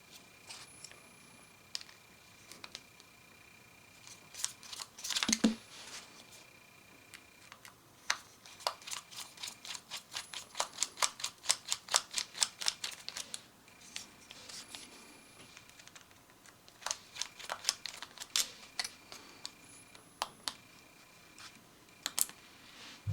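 Small screws being turned out of a BPS Pro Qualifier fishing reel: a run of faint, close, crisp clicks and ticks in bursts, with one sharper knock partway through.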